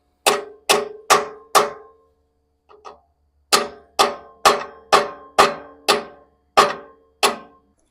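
A hammer strikes a metal part during an air-conditioning installation in a sharp series of ringing taps, four quick blows, a pause with light clinks, then eight more evenly spaced hits.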